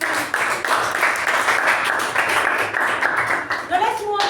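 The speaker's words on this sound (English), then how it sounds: "Let us give us a huge round of applause for excellent." Applause from a Toastmasters club meeting audience for the session's speakers, moderately loud clapping with uneven bursts, followed by a brief voice near the end.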